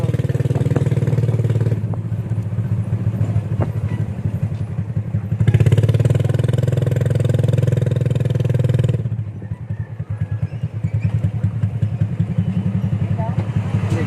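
A motorcycle engine runs nearby at a rice relief distribution with a steady, chugging idle that swells louder at moments, while people talk over it.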